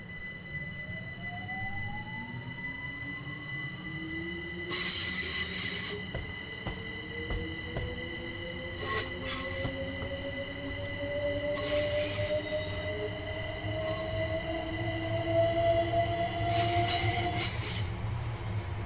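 An Electrostar electric multiple unit in Train Simulator 2021 runs steadily with a rising motor whine and loud bursts of wheel squeal, close and continuous, with no talking.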